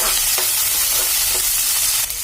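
Green chillies and onion pieces fry in hot oil in a pan for a bitter gourd stew, giving a loud, steady close sizzle with occasional stirring scrapes and no talking.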